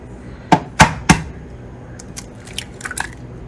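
A second egg cracked into a blender cup: three sharp, close knocks of shell on the rim in quick succession, then softer wet breaking and dripping sounds, no voices.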